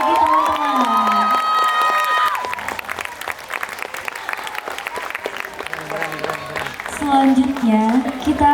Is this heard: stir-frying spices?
no